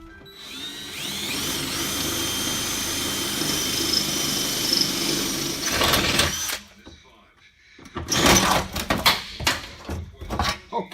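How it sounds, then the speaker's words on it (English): A power drill whines steadily for several seconds while drilling out fasteners in the partition of a Ram ProMaster van, then falls silent and returns as short, uneven bursts of tool noise. "Gotta drill those out."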